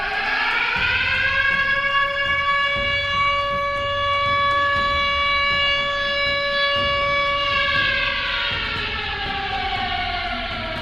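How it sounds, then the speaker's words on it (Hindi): A loud civil defense siren wails steadily for several seconds, its pitch sliding down near the end as it winds down. "जैसे ये सेल्फ टेस्ट है, सायरन कैसे बजता है, तो हम आपको सुनाते हैं यहाँ पे"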